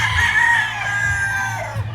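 A gamefowl rooster at a game farm crows loudly and close by in one drawn-out call, with a low steady hum underneath.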